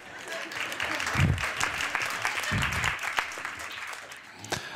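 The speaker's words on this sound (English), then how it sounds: "Round of applause for Cornell Belcher." An audience claps continuously, a dense patter of applause from a crowd, with a voice briefly heard underneath.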